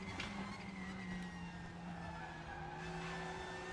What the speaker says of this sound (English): Really spinning up his fronts under acceleration.